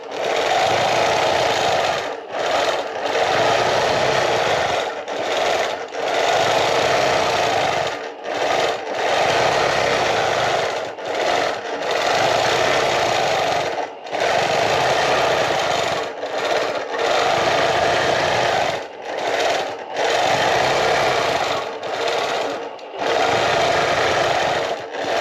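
A sewing machine stitches steadily in loud bursts of several seconds each, with short pauses between runs as the seam is guided toward a 3/8-inch mark.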